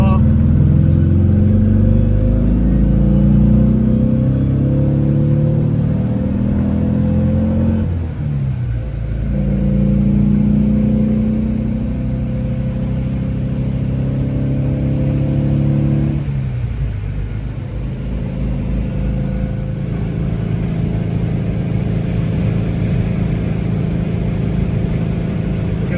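Engine of a restored 1965 Porsche 356C Coupe heard from inside while driving on the road, a steady rumbling drone that rises and falls through gear changes, with a voice talking over it.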